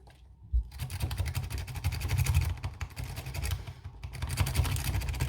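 Lock picks raking a stock lock, rapid scratchy metallic clicking and rattling in fast bursts with short pauses, close and continuous.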